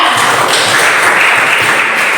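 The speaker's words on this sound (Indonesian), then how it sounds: "tepuk tangan untuk Cynthia" Classroom applause for a student named Cynthia after a lesson summary: loud, dense, steady clapping from a group of students filling the whole stretch, with no speech over it.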